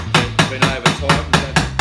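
A hammer taps a flat part from a 2 hp electric motor back into shape, seven sharp, evenly spaced metallic strikes at close range over a low workshop hum.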